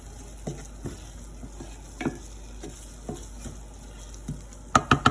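Chopped bacon fries in a pan with a soft, steady sizzle while a utensil stirs it, giving scattered scrapes and a few louder clacks toward the end.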